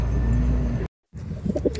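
Homer pigeons in a loft cage give low, soft coos close by, with a steady hum underneath, a brief silent gap, then more faint cooing and rustling.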